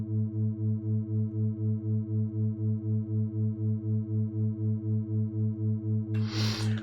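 Binaural beats synthesized in VCV Rack from a 108 Hz overtone series, a steady low droning tone with a regular, even pulsing throb, blurred by reverb, ending in a brief burst of noise.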